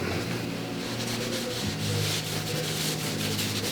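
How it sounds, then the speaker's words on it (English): A paper towel with a little motor oil is rubbed over a mower's bed knife, producing a steady, close, dry rubbing and scrubbing sound with no pauses. "I just take a paper towel and a little bit of motor oil, rub it on there, rub it on the bed knife"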